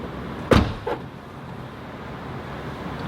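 A Ferrari door pulls shut with one sharp close, followed by a softer knock about half a second later, then steady low cabin hum.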